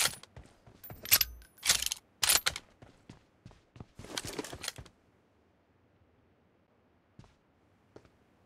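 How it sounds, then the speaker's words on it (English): Weapon reloading in the M24 TDM shooter game: a quick series of sharp metallic clicks and clacks, several loud close snaps in the first half, then near silence with a couple of faint ticks. "Reloading!"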